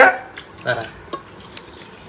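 Rice being mixed by hand with mashed bharta and spicy meat curry on a plate, producing a few soft, wet squelches and light clinks spread across a couple of seconds in a quiet room.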